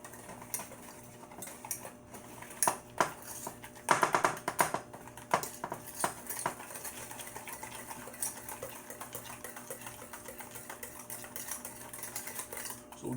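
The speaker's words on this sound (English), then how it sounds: "Now I'm going to whisk this together" Chocolate pudding ingredients, including unsweetened dark cocoa powder, whisked in a bowl, giving quick irregular clicking taps of the whisk against the bowl that come in bursts over a faint background.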